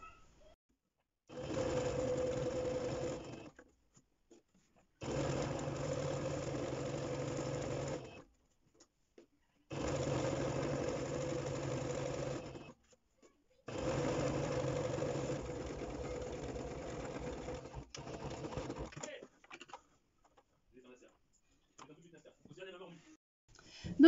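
A sewing machine stitches seams along a store-bought strap in four steady bursts of a few seconds each, separated by short pauses, close and clear, with faint handling noise near the end.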